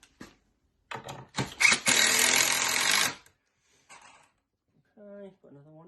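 A power drill whines in short bursts and then one longer run, driving screws into wood during a DIY build of a bench from an old bath, with brief talk afterward.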